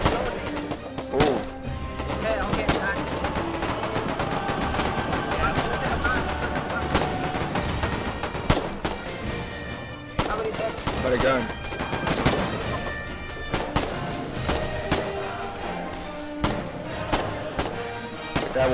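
Dense gunfire and bursts from weapons in the war video game Foxhole, with steady loud shooting throughout, occasional heavier thuds and voices calling out over the battle noise.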